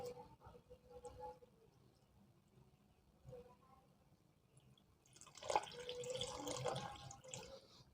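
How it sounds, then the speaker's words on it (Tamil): Water poured into a pot while preparing wheat halwa, a soft splashing pour rising in the last few seconds after quiet kitchen sounds, faint overall. "இதுக்கு நாங்கள் ஒரு ஒன்றரை கப் அல்லது ரெண்டு கப் அளவுக்கு தண்ணி விடலாம்"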